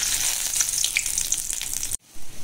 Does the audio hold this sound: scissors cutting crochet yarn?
no